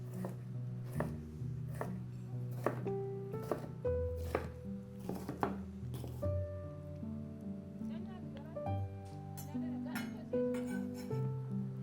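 A knife dices bell pepper into small cubes on a cutting board, giving a run of sharp, irregular chopping taps that sit under continuous talk in Russian.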